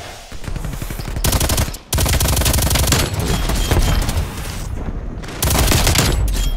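Rapid automatic gunfire from a Stoner light machine gun in Call of Duty Cold War, loud and close, firing in long bursts with a brief pause and a short gap near the end.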